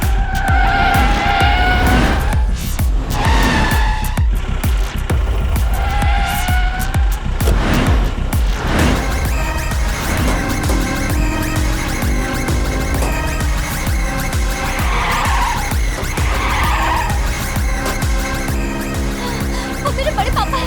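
A car speeds and skids during a chase scene, with loud continuous engine roar and screeching tires under dramatic noise, along with brief voices early on.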